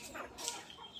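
Soft clucking from several laying hens in a yard, low and intermittent, with faint background noise and no talking.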